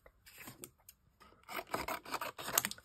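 Scissors snip a piece of craft material for painting, a few short, close rasping cuts at an uneven pace, growing louder toward the end, with no one speaking.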